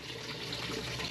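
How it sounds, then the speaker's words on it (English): Water flows steadily through a garden irrigation line for corn after a lever is turned, a soft continuous hissing gush, faint and unbroken for about a second. "I am going to turn on the water for the corn, which is real simple."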